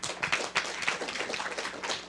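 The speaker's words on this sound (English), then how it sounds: "Your applause, please" A conference audience claps to welcome a keynote speaker, a short, quiet burst of scattered hand claps with a patter that stays even throughout.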